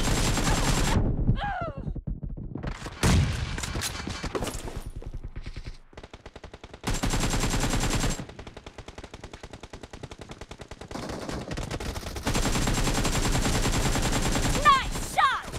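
Rapid automatic gunfire in the mobile battle royale game PUBG Mobile, loud bursts of machine-gun fire alternating with single shots and brief pauses, continuous through most of the stretch.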